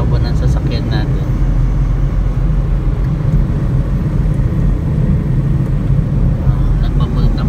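A Suzuki S-Presso with an AGS automated gearbox drives along a road, giving a steady, continuous low engine and road rumble from inside the cabin with no breaks.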